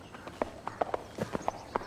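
A ridden horse moves forward at an even walk, its hooves clip-clopping in a steady rhythm of close, moderately loud beats.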